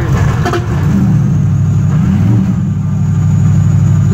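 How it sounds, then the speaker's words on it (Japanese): A Mercedes-AMG race car engine idles loudly up close at an indoor auto show, a steady low rumble with a slight dip and hum, no voices. "普通にアイドリングだな。"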